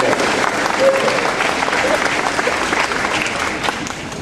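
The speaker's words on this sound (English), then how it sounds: "I'll be happy to take those applause" A lecture-hall audience claps in a dense, sustained round of applause, loud and even throughout with no talking over it.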